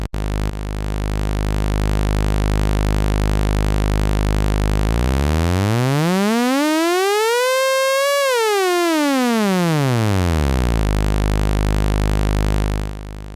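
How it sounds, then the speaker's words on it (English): A bright, buzzy sawtooth tone from an AS3340-based DIY VCO oscillator holds steady, then its pitch swoops sharply up and back down before settling into the steady drone again. "The sawtooth output, standard saw wave, a little bit of a curve here."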